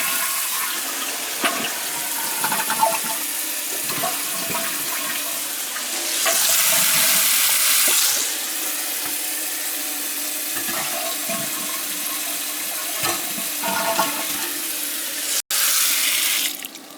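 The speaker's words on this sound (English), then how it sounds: "I gotta flush the toilet." A toilet flushes near a leaking old pipe, a rushing burst of water that swells loudly for a couple of seconds amid ongoing trickling and running water, followed later by another sharp surge.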